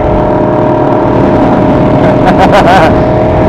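A car accelerating on the road in Daytona Beach, Florida, its loud engine droning steadily up close from start to finish, with voices in the cabin mixed in.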